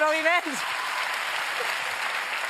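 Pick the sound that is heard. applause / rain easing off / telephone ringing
applause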